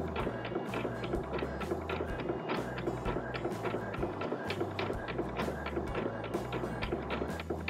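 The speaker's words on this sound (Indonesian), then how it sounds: "kita telah berhasil memprint dokumen dari Microsoft Excel menggunakan print yang telah kita install tadi drivernya" An Epson printer prints a document sent from a laptop, giving a steady mechanical whir with regular ticking clicks and periodic carriage thumps, close and moderately quiet, running alone without talk.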